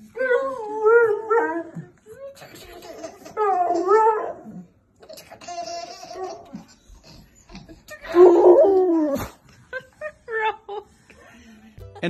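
A dog whimpers and lets out drawn-out, wavering howls in several separate bursts with short pauses between them, fairly close and clear.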